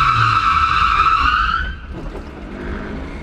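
Tires of a Nissan 350Z squeal loudly after a handbrake pull during a drift attempt, a sharp screech lasting about a second and a half before cutting off to low engine rumble.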